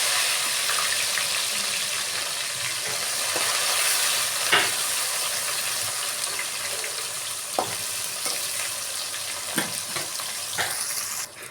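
Onions and dried red chillies frying in a pan for an amaranth-leaf stir-fry, with a steady broadband sizzle throughout and occasional scraping stir clicks, close and fairly loud with no talk.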